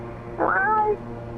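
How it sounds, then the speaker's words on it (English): A cat meows once, a clear rising-and-falling call lasting about half a second, heard close in a flight simulator cockpit setup over a steady low hum. "And there's a cat in the cockpit."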